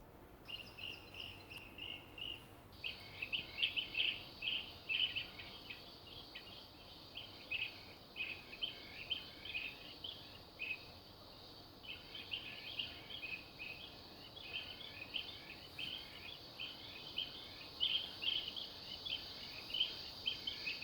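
Bee-eater birds calling at a zoo: rapid, repeated high chirping trills in clustered bursts, fairly close but soft, over a quiet background with no talk.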